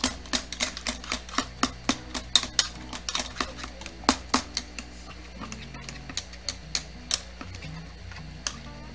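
Boiled potatoes being mashed and stirred by hand in a pot, giving a run of sharp, irregular close-up knocks and taps that thin out toward the end, with no talking.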